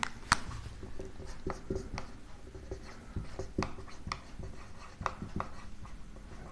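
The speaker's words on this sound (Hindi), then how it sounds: "तो इसको मैं लिखता हूं यहां पे" Marker or chalk scratches and taps on a board during a Hindi-language maths lecture on number systems. The strokes come as irregular short scrapes and clicks, close and clear, with no talk.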